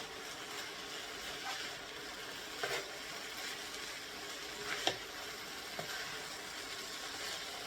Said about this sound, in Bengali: এখন আমি ভালো করে ভেজে নিব।